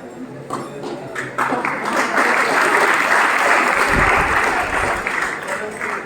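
Loud applause from an audience at a student award ceremony at a coaching centre, a dense steady clapping that swells after the first second and holds strong to the end, with faint voices beneath.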